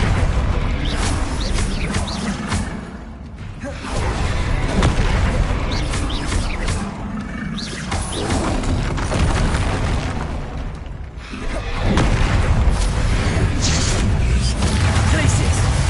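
Hogwarts Legacy spell blasts, Bombarda and Confringo among them, boom in a dense, continuous barrage of loud explosions and crackling impacts, with only brief dips in the roar.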